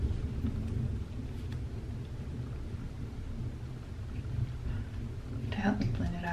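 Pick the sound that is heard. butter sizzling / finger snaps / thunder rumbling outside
thunder rumbling outside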